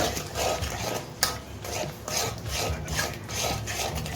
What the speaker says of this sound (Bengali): ভালো করে মশলাটা তিনের থেকে চার মিনিট কষিয়ে নেব